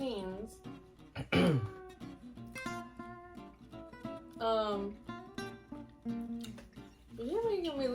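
Loud, repeated throat clearing breaks through casual conversation over a meal of Raising Cane's, with several rough bursts scattered among close voices.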